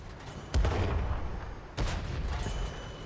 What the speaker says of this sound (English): there's the artillery.